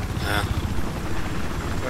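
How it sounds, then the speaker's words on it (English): An enemy helicopter in Battlefield 4, a steady rotor and engine drone running under a player's speech throughout. "Oh, enemy chopper here."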